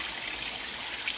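Natural spring water trickling steadily on a mountainside, a soft continuous wash of running water with no voices and an even level throughout.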